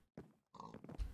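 A pig in Minecraft's Skyfactory 2.5 modpack gives two short nasal oinks and grunts, close and fairly quiet, separated by a brief pause.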